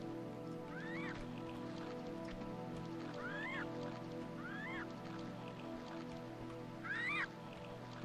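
Bird calls ring out in a Tibet level of the 1997 game Tomb Raider 2: four or five short, rising chirps spaced a second or two apart over a steady droning ambient background.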